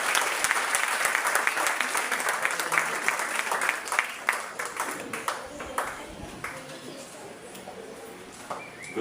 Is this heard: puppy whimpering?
no